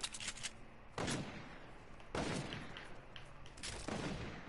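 Gunfire in a PS4 shooter game, heard as repeated bursts of shots in three or four loud volleys, close and dense, with no talking over them.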